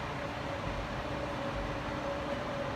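An Akita Nairiku Line train crawling slowly over a red steel railway bridge above a stream, heard as a steady distant rumble with a faint tonal hum throughout.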